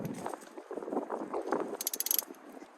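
A ratchet with a 14mm socket cinches down a bolt on a Suzuki DR650 motorcycle, giving short, faint clicking strokes that quicken into a sharp burst of ratcheting near the end.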